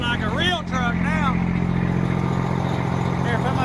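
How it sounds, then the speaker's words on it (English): A loud, deep straight-piped truck engine rumbles steadily with a heavy low drone throughout, while excited voices shout over it near the start. "Now that thing sounds like a real truck now."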